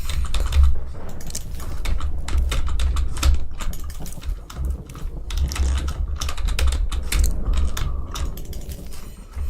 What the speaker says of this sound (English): Hopefully you can't hear my keyboard now that I increased the gain.